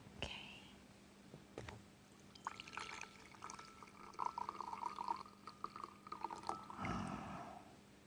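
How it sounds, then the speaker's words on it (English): Coffee being poured into a big cup at a coffee break, a soft trickling liquid stream rising in pitch as the cup fills, with a few clinks and small handling sounds around it, quiet and close. "I'll pour. How much do you want? A big cup or a small cup?"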